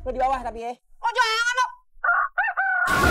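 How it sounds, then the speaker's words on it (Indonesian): A rooster crows at the end, loud and close, following a stretch of people talking nearby. "Iya, suara ayam."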